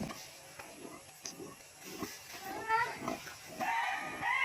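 Pig grunts at a farmhouse, a series of short, uneven snorts and grunts repeating at close range over light background noise.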